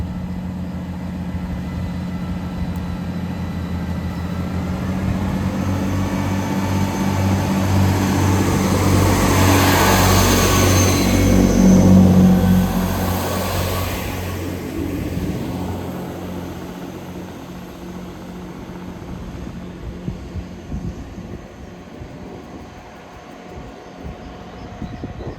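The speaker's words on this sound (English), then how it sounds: "Departing now is the Northern service off to Newcastle, 158842." A Northern diesel multiple unit, 158842, pulls out of a station on the Northumberland line bound for Newcastle, its engine swelling to a loud, steady drone near mid-clip before easing off as it draws away.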